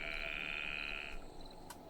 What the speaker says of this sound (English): Mini frogs.